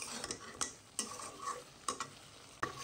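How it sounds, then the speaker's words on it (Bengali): Meat is stirred and fried in a pan, with repeated sharp spatula scrapes about every half second over a continuous sizzle. Nobody speaks. "আমি ভালো মতো মাংসটা কষিয়ে নিচ্ছি।"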